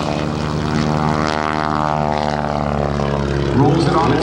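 Propeller engine of an aerobatic airplane at an airshow, droning loud and steady through a spin maneuver as a commentator talks over it.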